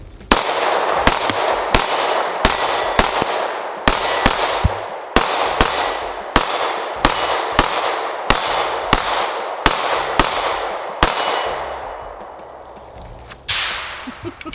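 A Sig P365 Macro pistol fires a dozen or so sharp, loud shots at an uneven, fairly quick pace outdoors, each crack ringing out briefly before the next.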